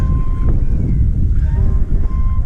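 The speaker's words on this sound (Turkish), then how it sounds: "Bir de rüzgar var karşıdan." Constant roaring headwind buffets the microphone during a mountain bike tour in the Aladağlar, Turkey, a heavy low rumble that stays loud throughout with no pauses.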